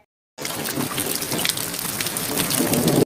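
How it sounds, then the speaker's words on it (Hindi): Steady rain falling and pattering on surfaces, a dense hiss of drops that begins abruptly and holds at an even, fairly loud level throughout. "लो, ये बारिश को भी अभी ही टपकना था।"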